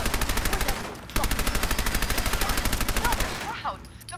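Rapid automatic gunfire in the video game Fallout 4, a dense rattling burst that pauses briefly, resumes, then trails off amid game effects and a voice.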